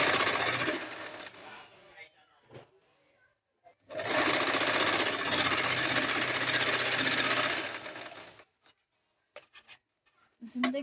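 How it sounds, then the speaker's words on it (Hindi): Sewing machines stitch uniform sleeves at home, with two loud, close bursts of rapid mechanical whirring separated by a quiet gap and followed by small clicks. "वो भी स्टिचिंग है और ये भी स्टिचिंग है, तो दो तरफ का आवाज़ अब आपको अगर चाहिए तो दोनों तरफ से सुन लें।"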